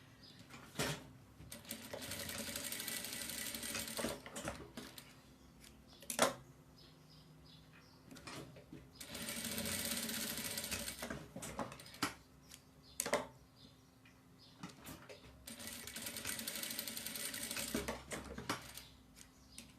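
Sewing machine stitching a small fabric piece for a boy's diaper-cover overalls, running in three sustained bursts with a few short backstitch passes between them and sharp clicks and handling noises in the pauses.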